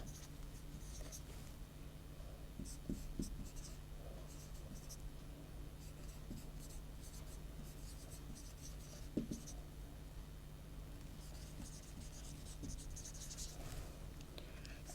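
A teacher writes names on a classroom board, quiet intermittent scratching strokes in short bursts over a low steady hum, with soft talk faintly in the background.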